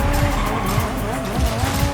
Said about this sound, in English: Got a little drift there.